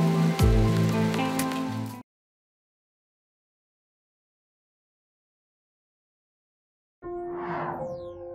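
Heavy rain pours down outside a flood-prone school classroom, a loud dense wash in two stretches separated by about five seconds of total silence, the first burst carrying some tonal background.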